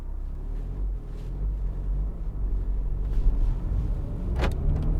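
Interior drone of a BMW 3 Series 318d Touring on the move, a steady low engine and road rumble with a brief squeak partway through.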